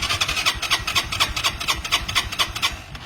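A motorcycle engine cranks during a compression test after internal cleaning, a rapid, even, rasping churn of about five strokes per second. Loud and close, with no voices.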